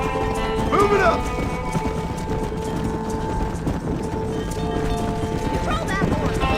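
Rhythmic clip-clop of horse hooves with a couple of whinnies while herding horses in a video game, under a busy game soundscape with voices.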